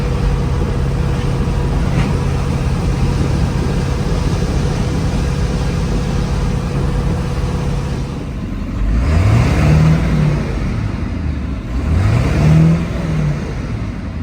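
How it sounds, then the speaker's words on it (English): A Ford F550 with a 7.3L Powerstroke diesel running, first a steady idle hum, then two rising revs as it accelerates and shifts, loud and close. "I think we're gonna take it, drive it around, see what it does"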